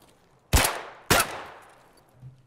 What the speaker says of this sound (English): Probably should have not shot him in the helmet